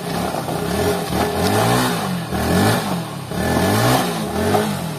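A motorbike engine revs hard in repeated surges near Bhimwali Park in Padampur, each throaty climb dropping back before rising again, loud and close with no talking.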